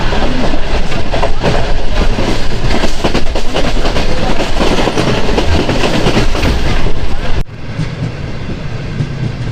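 Karakoram Express passenger train running near Shahdadpur station, with loud steady rolling and clattering of the rail cars, constant rumble that drops abruptly in level near the end.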